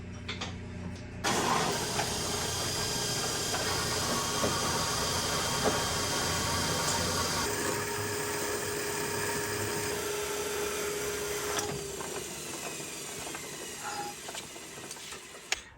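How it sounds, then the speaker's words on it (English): Bandsaw cutting 3.5 inch metal pieces in a machine shop: the motor starts up, then a steady whining grind runs under the blade for many seconds before winding down. "now we'll take this over to the bandsaw. I'm gonna cut these pieces out"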